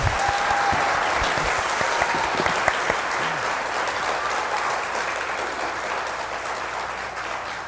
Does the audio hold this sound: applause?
yes